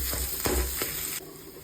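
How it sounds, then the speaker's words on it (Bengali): Spices fry in a pan for a peas kachori filling, a bright sizzle broken by a few sharp scrapes and clacks of a spoon stirring against the metal, loud and close. "এইবার আমি ভালো করে ভাজা ভাজা করে নেব মশলাগুলোকে নিয়ে।"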